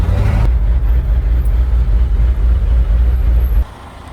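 A truck pulls up with a loud, steady low engine rumble and road noise that continues for a few seconds, then drops away sharply as it comes to a stop.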